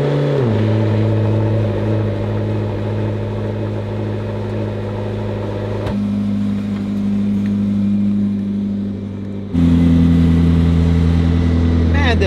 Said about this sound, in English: Man, this car sounds amazing.